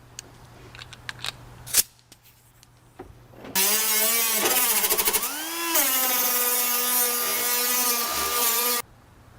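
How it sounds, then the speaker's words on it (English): An angle grinder smoothing the edges of Sprinter van capsules, a loud, steady high whine that bogs down briefly and then holds for several seconds before cutting off, preceded by a few sharp taps and knocks. "You want to grab your angle grinder or a sanding block and just smooth out all the edges that you missed"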